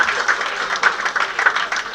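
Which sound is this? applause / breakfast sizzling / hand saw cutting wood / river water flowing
applause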